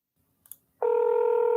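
Telephone call being dialed, with a couple of faint clicks followed by a steady, loud, continuous tone.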